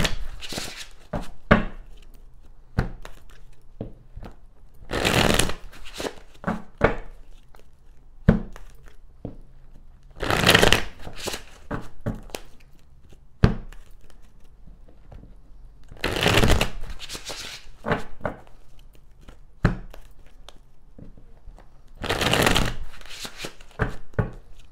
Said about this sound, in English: It's important to shuffle the cards good